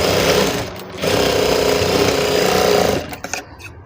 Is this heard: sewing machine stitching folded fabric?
yes